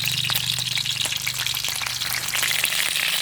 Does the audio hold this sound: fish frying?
yes